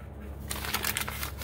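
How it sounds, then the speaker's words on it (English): Brown paper bag being crinkled and crumpled by hand, a close, steady rustling and crackling over a low background hum. "Crinkle that sucker up a little bit"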